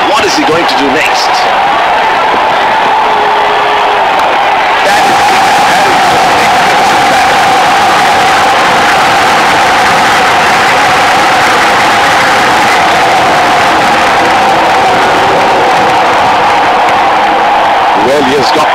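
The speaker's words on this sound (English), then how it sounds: "Crowd is going crazy." A loud, continuous crowd roar fills a simulated India versus Pakistan one-day cricket match in the video game Real Cricket 2018, with a commentator's voice running over the steady stadium noise throughout.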